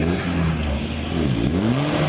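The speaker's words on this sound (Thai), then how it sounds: "ยูเทิร์นครั้งที่ 2 เสียงเครื่องยนต์โอเคไม่เหี่ยวครับ" A racing Toyota Hilux Revo pickup engine drones close by, its pitch rising and falling as it revs through a U-turn, with road noise underneath.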